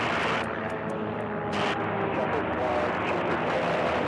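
A racing biplane, the Phantom, roars past at the 2018 national championship air races, its engine a loud, steady drone that holds for the whole stretch.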